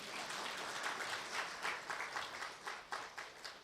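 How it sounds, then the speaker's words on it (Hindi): An audience at a Brahma Kumaris spiritual class applauds with faint, steady clapping that runs throughout, its claps loosely rhythmic and somewhat distant. "तालियां तो बजाओ ना।"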